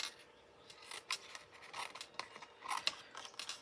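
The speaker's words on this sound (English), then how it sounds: "I'm going to snip this off so that I can feed that through my mini." Scissors snip a small scrap of tape at close range, a few quiet, brief cuts spread across a few seconds against faint background hiss.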